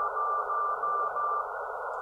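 Radio signal from the MOVE-1 satellite received at a launch event, heard as a loud, steady tonal hum with a faint repeating beep pattern, alone and without talk.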